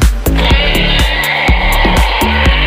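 Mattel Jurassic World Indominus Rex dinosaur toy sounding off, a loud electronic bleating roar pulsing in short repeated bursts, close and alone.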